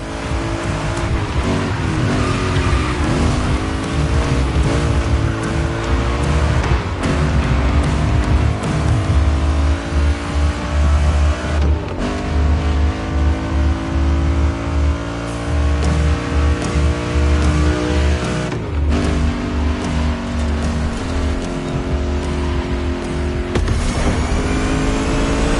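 Race cars in The Crew Motorfest roar loud and close, engines revving and climbing through gears in continuous, repeated accelerations with brief shifts and occasional tire noise.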